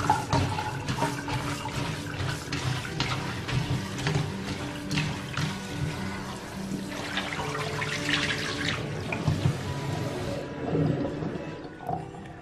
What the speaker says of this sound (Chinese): 用手呢再给它抓洗两下，然后呢把水倒掉，用清水呢再给它清洗一遍